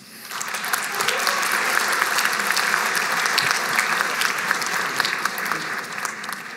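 An audience applauds pharmacy technician graduates at a college graduation ceremony, with dense, steady clapping from a large crowd that holds at full strength for several seconds and tapers slightly at the end.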